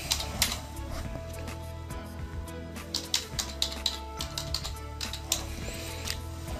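Someone types a name on a computer keyboard during a server login, a run of irregular, close key clicks alone over a low background hum.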